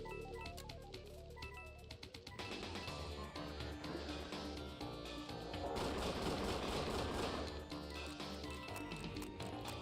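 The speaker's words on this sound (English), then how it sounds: "Automatic shotgun." Rapid automatic shotgun blasts from a first-person shooter, Golden Souls, fired in quick bursts over a dense game soundtrack, loud and close throughout.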